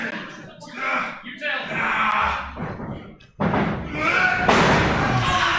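In a professional wrestling match, a wrestler is dumped face-first onto the mat with a heavy thud, amid loud commentary and crowd noise.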